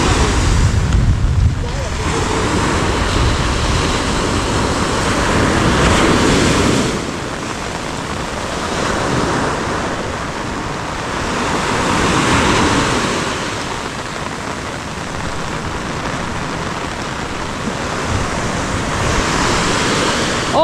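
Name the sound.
heavy rain pouring outdoors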